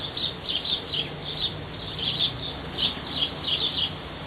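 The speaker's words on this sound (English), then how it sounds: "we've still got all this noise of birds in the garden" Birds sing in a garden in mid-July, with bright repeated chirps and tweets in short clusters over a steady hiss of outdoor ambience.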